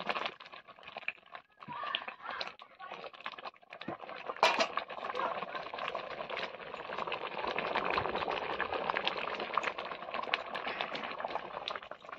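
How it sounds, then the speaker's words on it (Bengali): Eggplant, dal and sour spinach bubble together in a pot over a village cooking fire in Bengal, a steady continuous simmering burble with a brief louder clatter partway through, no voices. "বেগুন ডাল আর টক পালং শাক সব একসঙ্গে সেদ্ধ হয়ে গেছে"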